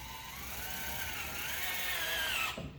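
A power tool whirs steadily while the blower motor mounting on a Lennox SL280UH135V60D furnace is tightened, its pitch shifting slightly before it cuts off abruptly near the end.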